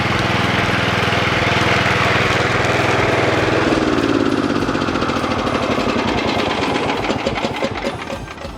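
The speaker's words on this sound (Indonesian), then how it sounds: "mesin ini tuh ditujukan untuk yang butuh mesin pemotong rumput di lahan yang luas" A FIRMAN FWM700-R robotic brush cutter runs with a loud, steady engine drone that shifts into a rougher, pulsing rhythm before easing off slightly at the end.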